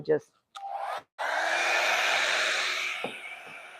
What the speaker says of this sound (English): I'm going to turn on the blow dryer